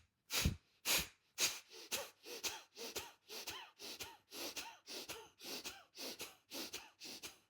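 Deep, rhythmic breaths during a yoga session, about a dozen strong airy inhales and exhales in a steady pulse, close and clear with no talking.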